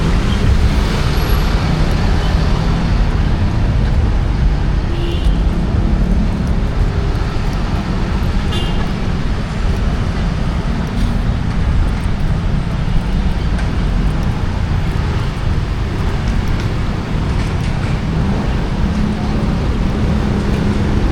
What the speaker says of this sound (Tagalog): Ang bilis ng mga sasakyan.